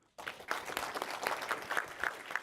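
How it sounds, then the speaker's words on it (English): A conference audience breaks into a round of applause at the close of a tech session, dense clapping starting abruptly after a brief quiet moment and continuing steadily with a few sharper individual claps standing out. "I want to give a round of applause to Masi."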